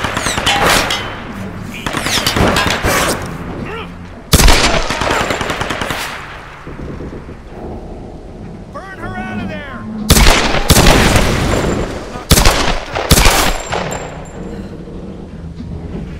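Loud, close gunfire from the Tomb Raider video game comes in rapid automatic bursts and heavy single shots, separated by quieter stretches with faint game effects.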